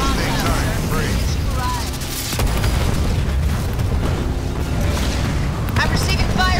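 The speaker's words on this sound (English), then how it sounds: "I'm receiving fire from ground troops." Dense battlefield din of ground-troop gunfire in the strategy game Halo Wars 2, a continuous loud wash of shots and booms with a voice speaking over the combat.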